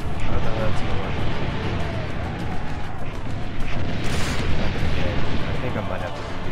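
Cannon fire booms in a battle in the video game Assassin's Creed Brotherhood, dense repeated blasts and rumbling mixed with a voice talking over the action.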